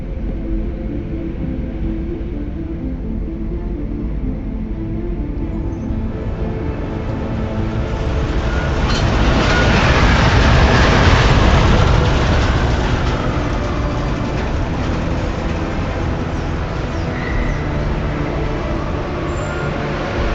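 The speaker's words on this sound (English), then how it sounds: "Just getting off the train now." A train ride in Deus Ex: Mankind Divided rumbles steadily, a low continuous rolling drone that swells in the middle and eases back, with no talk over it.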